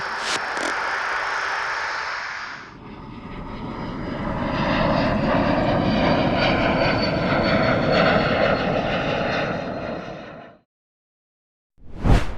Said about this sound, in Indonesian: Saat pesawat mulai lepas landas dari runway 23, Bandara Ahmedabad, semua berjalan normal.